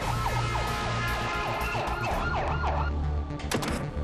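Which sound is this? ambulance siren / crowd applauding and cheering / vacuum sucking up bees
ambulance siren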